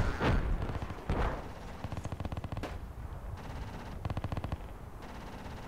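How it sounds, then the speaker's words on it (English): Heavy automatic gunfire and booming shots in the military shooter Project Reality on the Khamisiyah map, loud close bursts of rapid rounds with sharp single blasts in between. "I hear something shooting."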